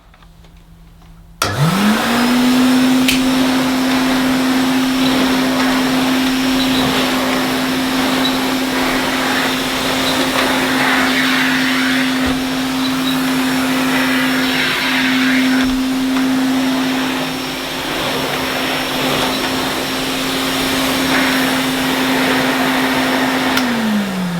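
A vintage Hoover Constellation vacuum cleaner with a carpet and floor nozzle switches on after a short quiet moment and runs loud and steady nearby, a constant motor whine holding for about twenty seconds before winding down at the end.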